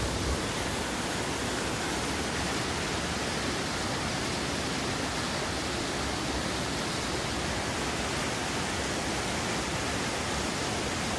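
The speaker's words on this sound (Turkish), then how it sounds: "Bu dere Zeytinli Çayı'na kadar akıyor ve Zeytinli Çayı'ndan sonra denize dökülüyor" A mountain stream and waterfall on Ayı Deresi in the Kazdağı mountains, flowing toward Zeytinli Çayı; steady, dense rushing water roars close and loud throughout, with no other sounds.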